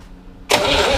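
A refurbished Corvair engine turns over on its starter, with a quiet pause and then loud, steady cranking that starts abruptly and continues without catching.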